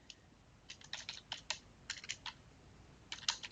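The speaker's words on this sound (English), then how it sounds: "we can type here" Quiet clusters of keystrokes on a computer keyboard, short irregular bursts of clicking separated by pauses, close and alone.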